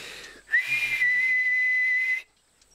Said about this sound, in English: Granny's whistle was so loud, Marinda had to put her hands over her ears.